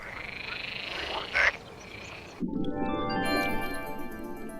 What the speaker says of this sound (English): where the air is filled with croaks and splashes